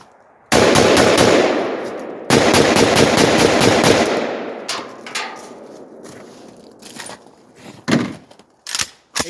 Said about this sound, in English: AK-47.